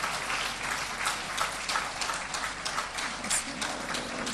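Audience applause at an international holistic health conference, a steady wash of many hands clapping in a hall, moderately distant and even throughout.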